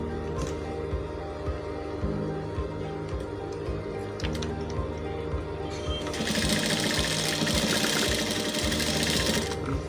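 A sewing machine runs steadily while stitching a half-inch neck seam on a vintage-style shirt, a close, continuous motor whir with a louder, busier burst in the second half.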